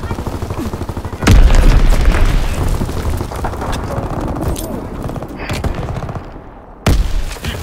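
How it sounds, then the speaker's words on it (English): Explosions and gunfire from Call of Duty WW2 as an enemy bomb strikes: a loud booming blast, a sustained rumble of shots and detonations, then a second sharp blast near the end, with some in-game voice mixed in. "Enemy bomb incoming. Get to cover."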